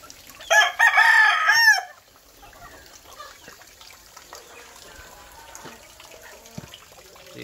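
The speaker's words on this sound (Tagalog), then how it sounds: "Meron dito mga manok." A rooster crows loudly and close by in a home garden, a single drawn-out call at the start, followed by faint clucking and quiet yard sounds.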